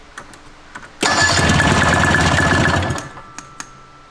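An old snowmobile engine, abandoned for about 20 years, cranks and briefly catches in a loud, rough burst of roughly two seconds before dying back to quiet, with faint clicks around it.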